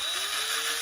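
A drill bit grinds steadily against a part of a Top Flite C-47 model airplane, giving a continuous high, whining buzz that stays loud and unbroken throughout.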